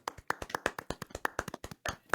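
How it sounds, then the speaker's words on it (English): A slow, sparse golf clap: about fifteen crisp single hand claps in a loose, steady rhythm, close and alone, with no talk. "I think that deserves a golf clap"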